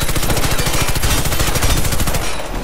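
Rapid automatic weapon fire in the video game Warface, a loud, dense stream of shots that runs almost unbroken for the whole stretch and tapers only at the very end.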